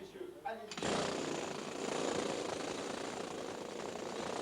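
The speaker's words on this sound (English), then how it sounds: "pick up his drill" A loud, continuous grinding drill boring through chalk in a tunnel kicks in after a brief moment of quieter sound and roars steadily without a break.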